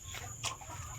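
Mixed-breed broiler chickens on a farm, about 48 days old, cluck and murmur in a steady flock chorus with one brief louder call rising above the constant low background.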